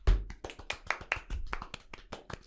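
Irregular bursts of hand clapping, fairly close and moderately loud, like a small group giving a round of applause during a casual sports podcast chat.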